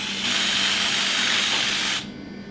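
A battery drill fitted with a Shoof tail trimmer whirs steadily for nearly two seconds, close and loud, while trimming a cow's tail, then cuts off abruptly.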